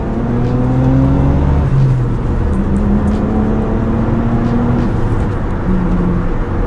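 A Mitsubishi Galant VR4 with a V6 engine accelerates along a straight road, its dense, steady drone heard from inside the car as the pitch climbs through gear changes, loud and continuous with no talk.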